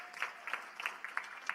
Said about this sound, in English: Give this guy a huge round of applause